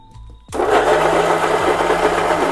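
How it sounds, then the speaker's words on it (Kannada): A mixer grinder suddenly whirs to life, grinding masala with a little water in its jar for hotel-style egg curry. After a brief quiet start, the loud, steady motor roar runs on with no talk. "ಈಗ ಅದನ್ನೆಲ್ಲ ತೆಗೆದು ಮಿಕ್ಸಿ ಜಾರ್ಗೆ ಹಾಕ್ಕೊಂಡಿದ್ದೀನಿ. ಸ್ವಲ್ಪ ನೀರು ಹಾಕ್ಕೊಂಡು ರುಬ್ಕೋಬೇಕು"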